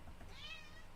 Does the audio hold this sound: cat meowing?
yes